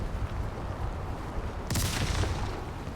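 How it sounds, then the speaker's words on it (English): A sharp crack of thunder in a video game bursts out over a dense, rumbling background roar, followed by a rolling low rumble that lingers. "Oh, that's lightning. I thought those were gunshots."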